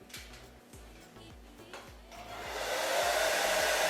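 Hair dryer drying wig glue, switching on after a few soft clicks and handling noises, then blowing in a steady close airy rush.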